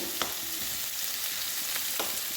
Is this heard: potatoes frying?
yes